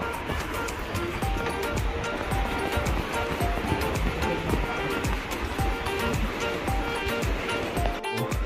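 River water rushing beneath a bridge on a village road near Haldwani, Uttarakhand, a continuous loud roaring wash with no breaks, heard close up throughout.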